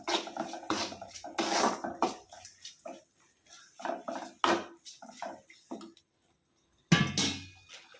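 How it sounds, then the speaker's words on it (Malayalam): A spoon stirs ripe nendran banana pickle in a pan over low heat, giving irregular close scrapes and clinks against the metal, with a short silent pause before the stirring picks up again. "പഴം ഇട്ട് കൊടുക്കാം നല്ല പോലെ ഇളക്കി കൊടുക്കാം"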